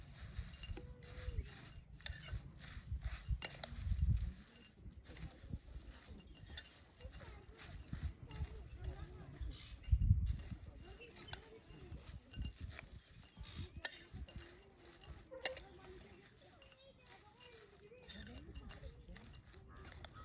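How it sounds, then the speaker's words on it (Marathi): Bhel being stirred by hand in a bowl as water is poured over it: close, irregular rubbing and soft clinking, with a few louder scraping bursts along the way. "आणि हे पाणी आपल्याला याच्यामध्ये सगळीकडून एकत्र ओतायचं आहे आणि छान एक मिक्स त्याला द्यायचं आहे."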